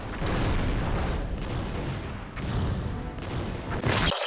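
Sovereign-class starships fire quantum torpedoes during a battle against the Scimitar in a Star Trek space combat game: a dense, continuous roar of weapon blasts and booms rolling for several seconds, ending in a brighter burst.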